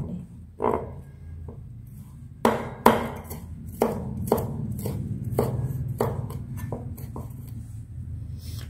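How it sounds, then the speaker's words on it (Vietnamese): A knife chops garlic rapidly on a cutting board, a few scattered strikes building into a steady run of quick, crisp taps, close and alone. "Băm cái phần tỏi đi."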